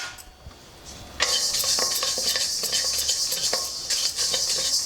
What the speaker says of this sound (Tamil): இப்போது கருப்பு உளுந்து போடுறேன்.